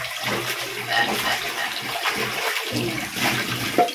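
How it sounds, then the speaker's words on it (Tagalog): Running tap water rinsing a frying pan (kawali) in a home kitchen, a steady splashing gush close by with scrubbing clatter and shifting flow, no talk over it. "hugasan na natin yung ating kawali"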